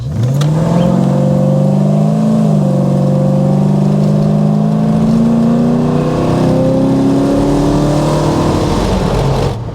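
A rebuilt 1986 Chevrolet Monte Carlo SS V8 revving up hard under acceleration, a loud, close engine roar climbing steadily in pitch with a shift partway through.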